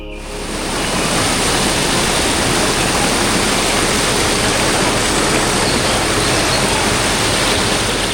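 The Vattayi waterfall roars as a loud, dense, unbroken rush of water that swells in within the first second and stays constant.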